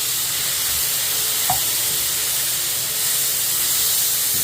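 Water dumped on a hot flat top grill hisses and sizzles as steady, loud steam, with a small clink partway through and no talking.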